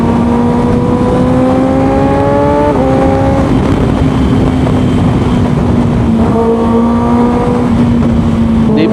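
A loud, droning motorcycle exhaust roars steadily at close range on an early-morning mountain road ride, its pitch rising slightly and dropping briefly before climbing again.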